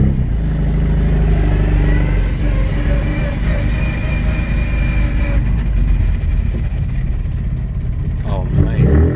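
Souped-up classic Mini engine revving as the car drives along a bumpy road, a loud, close, throaty drone rising and falling in pitch with rattling underneath and brief voices inside the car.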